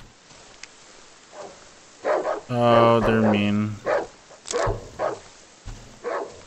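Dogs in the game Darkwood bark in several loud, close yaps and a drawn-out whining howl. Someone talks briefly between the barks.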